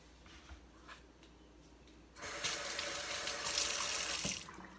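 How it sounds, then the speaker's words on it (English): Cold well water gushes from a faucet into a kitchen sink, starting abruptly after a quiet stretch and running as a steady, close, hissing splash for a couple of seconds before tapering. "I will put some ice water in this sink, or sometimes just really cold water"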